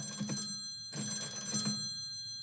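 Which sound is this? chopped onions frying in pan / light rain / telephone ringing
telephone ringing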